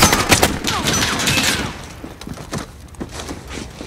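Machine gun nest firing in a Call of Duty: Modern Warfare battle, a stream of rapid gunfire bursts with sharp cracks and impacts that is loudest at the start and thins to scattered shots.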